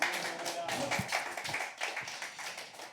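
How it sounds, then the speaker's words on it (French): An audience at a live comedy show claps, scattered uneven claps that come through quietly and mixed with voices in the room. "ça, c'est bien ce qu'on peut applaudir"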